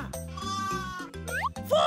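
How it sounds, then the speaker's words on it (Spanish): Sheep bleating in a children's animal-sounds vocabulary lesson: a couple of short, wavering bleats, close and loud, over a light musical backing with cartoon sound effects. "¡Oveja!"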